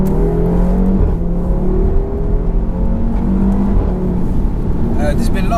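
A 440 BHP APR-tuned Audi RS3 engine pulls hard from inside the cabin with a loud, rising drone, a brief dip at a gear change, then climbs again under road noise and occasional voices.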